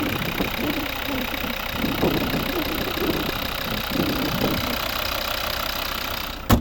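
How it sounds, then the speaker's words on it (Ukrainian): A 2013 Volvo V60 with a 2.0 D3 diesel engine and automatic gearbox idles steadily and close by, a constant even drone while someone talks over it. "у нас робота двигуна"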